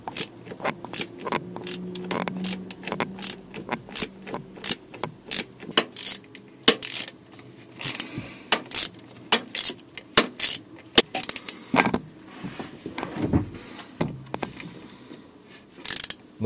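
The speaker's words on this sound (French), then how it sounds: "Je serre complètement la deuxième vis du démarreur." Bolts on the starter motor of a Citroën C3 1.4 HDi are tightened with a ratchet, giving irregular sharp metallic clicks and short ratcheting bursts, close by, with clinks and knocks of tools between them.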